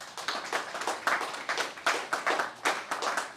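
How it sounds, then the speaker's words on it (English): A modest crowd at the 30th Raindance Film Festival programme launch claps for a sponsor, distinct individual claps in a loose, quick rhythm, moderately quiet and without voices. "Round of applause, please."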